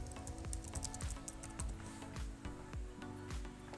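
Keys are pressed in a steady run of quick, close clicks while typing a search into a keyboard, the taps fairly loud over a faint, busy background.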